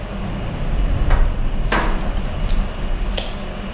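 Trimming a vehicle console panel, a few sharp knocks and cracks of hard plastic over steady low rumbling, close and loud, with no talking.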